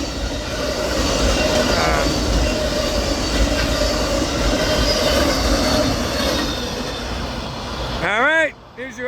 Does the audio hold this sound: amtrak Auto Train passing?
yes